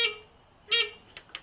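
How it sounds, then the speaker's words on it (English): A small electric buzzer standing in for a garage door sounds two short, harsh, high-pitched buzzes about half a second apart, followed by a couple of fainter blips, close and otherwise quiet. "now I'll use this little buzzer to simulate the garage door"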